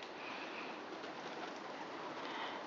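Pigeons cooing and pecking at bread outdoors in the morning, a steady soft, diffuse bird texture with faint cooing, fairly quiet and continuous with no talk.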